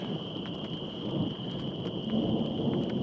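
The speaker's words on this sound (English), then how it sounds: "Rain has been like this, on and off, on and off." Thunderstorm with rain at a campsite, a steady rain hiss and low rolling rumble under a constant high insect-like tone, with scattered drip taps.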